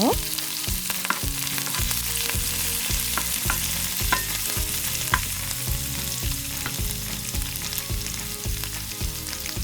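Chilli, garlic and chopped parsley fry and are stirred in a hot pan for chilli garlic prawns, giving a loud, steady sizzle broken by repeated scraping stirs, with no talking.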